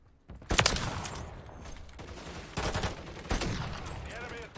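Gunshots in Call of Duty MW3 during a sniping match: several sharp, separated shots and bursts ring out at moderate loudness, with a loud crack early on followed by spaced reports.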